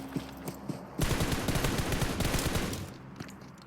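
Gunfire in PUBG Mobile during a competitive esports league match: a dense burst of rapid shots crackles loudly, with scattered single shots before it and the firing thinning toward the end.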